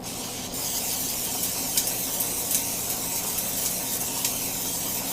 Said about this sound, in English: I'm spraying the pan and about to add the chicken.